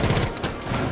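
Gunfire from Rainbow Six Siege, a dense, loud burst of shots packed into under a second with no clear gaps between them.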